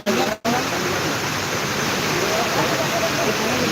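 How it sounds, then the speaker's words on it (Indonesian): Heavy rain pours down at an outdoor work site: a dense, loud, steady roaring hiss that begins abruptly after a brief gap and continues unbroken and close. "Hujan guys, hujan."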